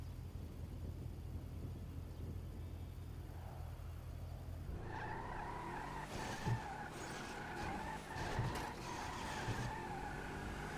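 Car tires skidding and squealing in GTA 5 as a car gets stuck trying to drive up a flight of stairs: a steady engine drone breaks into sustained screeching tire squeal with brief thumps, loud and close.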